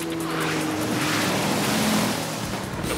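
A small motorboat engine in an animated cartoon drones steadily and fairly loudly throughout, with a constant low hum mixed with broadband rushing noise like water or wind.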